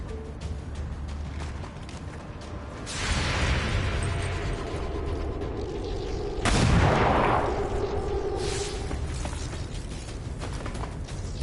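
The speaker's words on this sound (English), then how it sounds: "There's heavy fire in this zone." Heavy gunfire in the video game XCOM 2, heard as a dense, continuous mechanical clatter with a couple of louder blasts swelling up midway, steady and close throughout.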